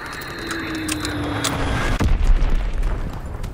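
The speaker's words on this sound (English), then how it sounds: "Enemy bomb incoming. Get to cover." A bomb explosion on the Egypt map of Call of Duty WW2: a loud, heavy boom that rolls and rumbles for a second or two, then fades into lingering low debris noise.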